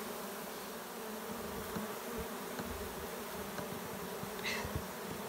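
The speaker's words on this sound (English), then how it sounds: "Whole lot of bee action here." A wild swarm of honey bees fills an abandoned top bar hive, giving off a dense, continuous buzzing hum close to the microphone, with a few individual bees droning past and no voices.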